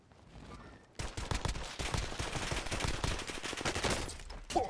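Gunfire from a gun in an online military shooter video game erupts after a second of quiet into rapid sustained automatic bursts, loud and continuous for several seconds.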